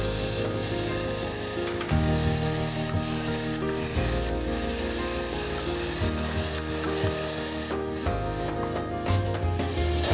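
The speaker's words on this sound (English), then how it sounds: "And now I will add in the tomato puree." Tomato puree hitting sizzling garlic ginger paste in a pan, a continuous close sizzle and hiss with rubbing, scraping stirring strokes and a low hum running beneath, no talking.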